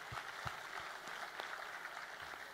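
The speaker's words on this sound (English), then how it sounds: "Can we have a huge round of applause for his effort?" Applause from the audience at a coding contest award ceremony, a faint, even wash of clapping with a few stronger claps poking through, steady throughout.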